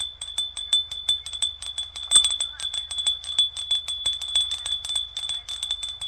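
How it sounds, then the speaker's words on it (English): A low-toned bell, lacking the high ring of other bells, is struck repeatedly in a steady rapid rhythm, ringing close and moderately loud with one stronger strike partway through. "But that particular type of bell is not, it doesn't have that high tone that other bells have."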